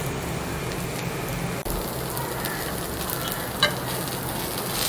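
Rava dosa roasting in oil on a hot pan gives a steady, close frying sizzle throughout, with a faint clink near the end and no talk.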